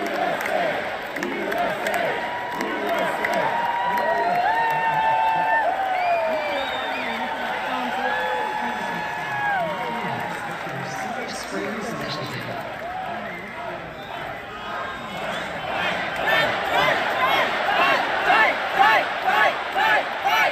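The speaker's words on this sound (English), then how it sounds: "you will hear the crowd chanting USA, and then going to fight" A large crowd chants "USA" in unison at the Republican National Convention, a rhythmic roar of many voices that pulses louder toward the end, with shouting and cheering mixed through it.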